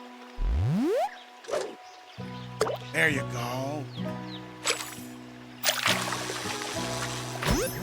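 In the Oregon Trail video game, a fishing line is cast into water with a rising whoosh and a splashy plop, followed by soft game sound effects while players talk over it.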